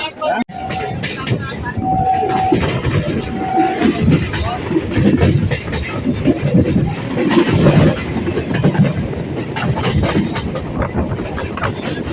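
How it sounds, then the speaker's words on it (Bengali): A suburban commuter train pulls into Ballygunge junction station on the Sealdah to Lakshikantpur line, its carriages rumbling and rattling loudly and steadily throughout, with brief tonal squeals near the start and a voice talking over the noise. "এই মুহূর্তে আমাদের ট্রেনটা ঢুকলো বালিগঞ্জ জংশন"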